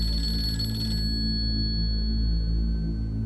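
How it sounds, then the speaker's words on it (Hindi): A telephone rings in a domestic setting, a steady electronic ringing tone with a sharper high layer cutting off after about a second, over a low background hum, with no voices. "मामा का फोन आया।"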